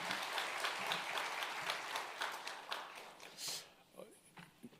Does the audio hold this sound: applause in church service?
yes